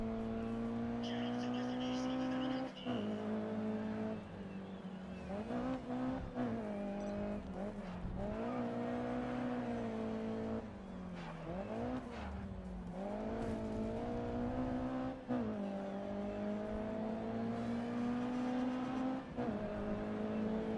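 A race car engine in the racing game Grid Autosport, a loud continuous whine that rises and falls through gear changes, close and sustained throughout, with no voices.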